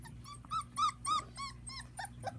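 A four-week-old male puppy whimpers and yips in a string of short, high, nasal cries, about eight in quick succession over a low steady background hum, fairly close and soft.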